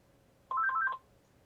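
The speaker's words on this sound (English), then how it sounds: "Someone's phone?" A mobile phone gives a short burst of bright electronic beeping tones, quick stepped notes lasting about half a second, fairly faint against a quiet background with no talk.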